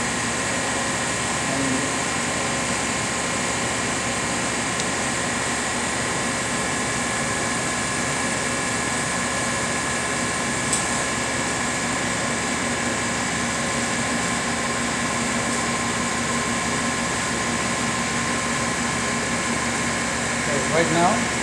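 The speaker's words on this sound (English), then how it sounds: "There's a cooling fan in the unit to cool the automatic network." A cooling fan inside a Plasma-Therm System VII Batchtop PTI-79028F etcher runs as a steady, even machine hum with broadband hiss, holding constant throughout with no talk over it.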